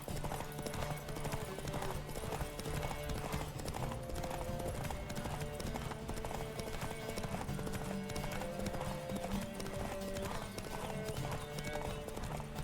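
Hooves of a horse galloping in The Witcher 3: Wild Hunt clip-clop in a fast, steady rhythm under a faint music bed, with an occasional whinny, even and moderately loud throughout.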